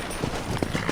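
Horse hooves in Red Dead Redemption, a quick run of several muffled clip-clop beats in uneven rhythm, fairly close over a noisy game background.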